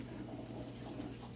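Tap water runs steadily and faintly into a sink while beef kidneys are being washed, a soft even hiss with no voices.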